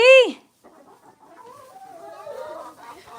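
Young backyard chickens: one loud, close squawk opens, then softer clucks and chirps carry on quietly with no talking.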